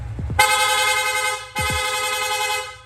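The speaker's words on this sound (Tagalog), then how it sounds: "Long press lang po natin yung horn switch, yung busina natin, magsusunod-sunod na po yan." Loud rapid horn fitted to a Yamaha Sniper 155 motorcycle, sounding in two long, bright, rising blasts, each roughly a second long, close and alone.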